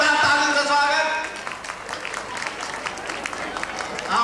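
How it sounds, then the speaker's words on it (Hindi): An audience at a Sindhi Welfare Association gathering applauds to welcome Dr Motilal Jotwani. A voice is heard briefly at the start, then steady, dense clapping continues to the end. "जोतवानी साहब के जोरदार तालियों से स्वागत"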